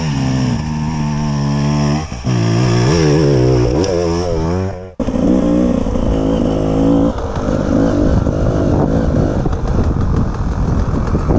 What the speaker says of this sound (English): Here is Darko trying some wheelie.